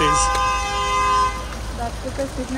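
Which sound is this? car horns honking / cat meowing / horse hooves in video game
car horns honking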